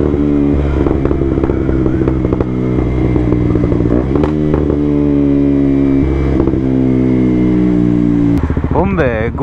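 A small motorbike engine idles with a little throttle held open: a steady, close, buzzing hum that swells into a short rev near the end, with someone briefly speaking over it.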